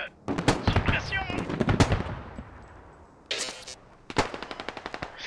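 Machine gun suppressive fire in the Squad military shooter game: rapid bursts of loud automatic gunfire close by, a short pause, then a steady rattling stream of shots, with voices talking briefly over the firing.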